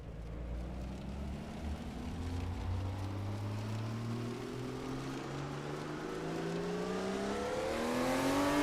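Porsche 935/78 'Moby Dick' race car engine in a racing video game at Sebring, a steady loud drone that rises in pitch as it accelerates through the gears, alone with no talk.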